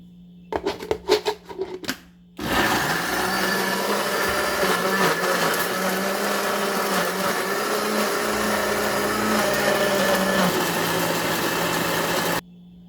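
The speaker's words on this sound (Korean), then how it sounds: "잘 골고루 한번 갈아 보시게요" A kitchen blender grinds the seasoning paste for young radish kimchi. A few short pulses come first, then one loud, steady, close whirring run of about ten seconds that stops abruptly.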